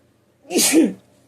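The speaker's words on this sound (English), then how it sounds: "now how the fan making me sneeze" One close, sharp sneeze, a quick breathy burst that ends abruptly, with quiet before and after.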